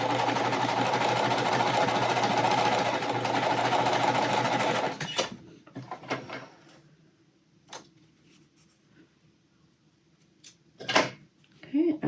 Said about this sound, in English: And I'm going to sew one side at a time